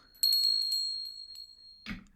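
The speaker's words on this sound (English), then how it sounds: "So it's just a little bell." A small bell tinkles in quick repeated strikes, then a single clear tone rings on and slowly fades, close and fairly quiet, with a brief rustle at the end.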